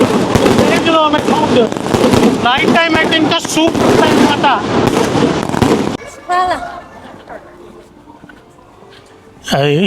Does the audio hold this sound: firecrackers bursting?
yes